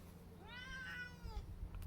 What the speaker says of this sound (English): Sorry if my cat meows through this whole thing.